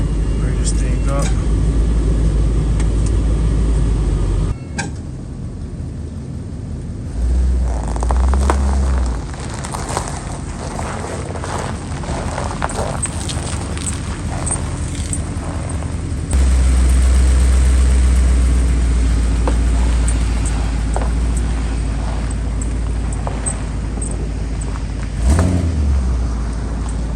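A Ford Super Duty truck with a bad U-joint creeps along in 4-wheel drive, its low engine rumble steady and close, with clunks and shifts in drone as it moves; someone talks over it throughout.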